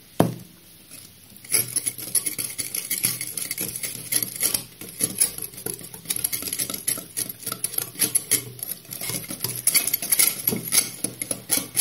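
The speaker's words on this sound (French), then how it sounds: "Alors, je vais mélanger énergiquement." Lemon cake batter is mixed vigorously in a bowl, a close, busy run of rapid scraping, tapping and sloshing strokes with an irregular rhythm that keeps going after a quiet start.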